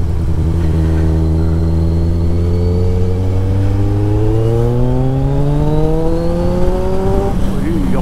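A Kawasaki Ninja 1000, a 142 bhp litre-class motorcycle, revs hard at full power. The loud engine note climbs steadily in pitch for about seven seconds, then drops off sharply near the end.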